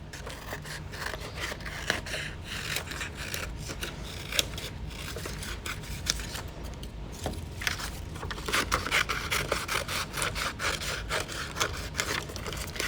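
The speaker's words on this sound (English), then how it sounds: "I'm going to cut right on the blue line so I don't see any of the other white paper." Scissors snip and scrape through blue paper while circles are cut out, a close, continuous rustling and crunching of blades on paper with no voices.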